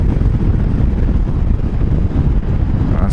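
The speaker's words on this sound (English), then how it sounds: "It's really windy from my perspective, so I'm kind of interested how the microphone's picking it up." Strong wind buffets a microphone on a motorcycle ride along a freeway, a loud, constant low roar and rumble that fills the whole stretch with no voices.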